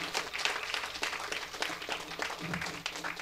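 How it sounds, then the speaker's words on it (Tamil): Applause from the audience at the Aadharam film trailer launch, honouring associate director Vinod: a dense, steady patter of many hands clapping for about three seconds, with a few voices mixed in. "வினோதுக்கு ஒரு பெரிய கைத்தட்டல்"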